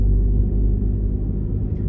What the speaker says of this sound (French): Il fait quoi avec son tracteur celui-là?